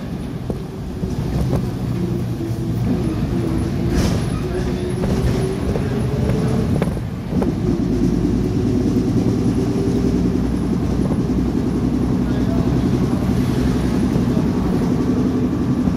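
Inside a moving intercity bus at night in Paraná, Brazil, a steady loud engine hum and road rumble with a few brief knocks and thumps, no voices.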